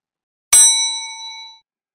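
One bright bell-like ding used as a notification chime for a subscribe bell icon, striking sharply out of silence and ringing on with a clear tone that fades over about a second.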